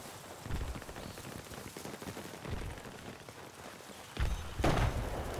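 AUG rifle fire in Battlefield 4 team deathmatch on Operation Mortar, heard as several short, sharp bursts spread over a few seconds against a crackling, rain-like background, the last bursts loudest.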